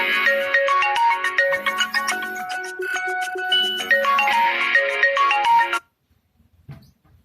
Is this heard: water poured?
no